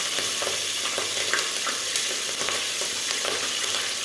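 Chillies and curry leaves sautéing in oil for chicken biryani, a constant near sizzle with occasional light stirring clicks and crackles.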